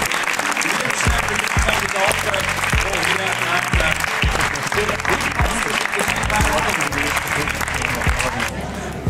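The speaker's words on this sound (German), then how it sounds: "Einen grossen Applaus für" A studio audience at a live game show with 100 contestants gives sustained, loud applause and cheering, with heavy thumps and rhythmic clapping. A voice speaks over the din and it tapers slightly at the end.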